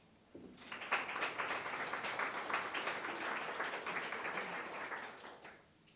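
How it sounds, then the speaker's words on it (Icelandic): Steady applause from an audience at a healthcare institution's annual meeting, starting abruptly, holding an even, sustained level of many hands for about five seconds, then fading out. "eigum við ekki að klappa fyrir því"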